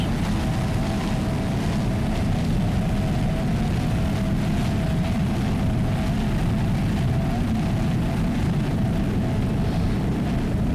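A 35-foot Fountain racing powerboat with twin 500-hp Mercury inboard engines at a factory-class race, producing a steady, loud, unbroken roar throughout, with no talk.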